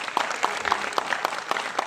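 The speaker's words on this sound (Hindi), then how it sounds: "उनको नतमस्तक प्रणाम करते हैं और जोरदार तालियों के गड़गड़ाहटों से।" An audience at a Haryanvi ragini folk music performance claps in a steady, rhythmic beat, moderately distant and fairly faint.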